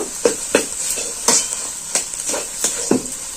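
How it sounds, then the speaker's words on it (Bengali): Cabbage and egg roll filling with peanuts and coriander being stir-fried in a pan: a steady sizzle with repeated sharp scraping and tapping of a spatula against the pan, about two strokes a second, close and alone. "আরও আমি নাড়াচাড়া করে কষিয়ে নেব"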